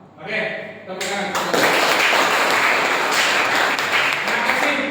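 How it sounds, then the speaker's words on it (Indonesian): An audience at a classroom motorcycle suspension repair session breaks into dense, steady applause that swells quickly and holds for several seconds. "tepuk tangan"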